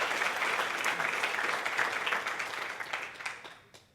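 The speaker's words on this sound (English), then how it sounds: "Please give them a huge round of applause." Audience applause at a sponsor address event fills the room, dense and steady before tapering off toward the end, with no talk over it.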